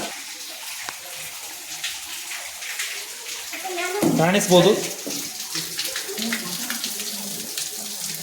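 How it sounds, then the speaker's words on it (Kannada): River water flows steadily beside a temple at Amareshwara Amaragunda with a continuous close rushing wash, while someone speaks over it and the gush swells briefly midway. "ಇಲ್ಲಿ ಯಾವಾಗಲೂ ಕೂಡ ನದಿ ನೀರಿನ ಹರಿವು ಇರ್ತಕ್ಕಂಥದ್ದು"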